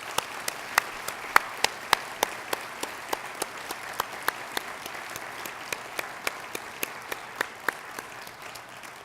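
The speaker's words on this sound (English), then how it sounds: "Please join me in giving them a big round of applause and thanks." Audience applause at an afternoon university fall convocation ceremony, a steady dense wash of clapping across the hall with sharp individual claps standing out near the microphone, sustained throughout without talk.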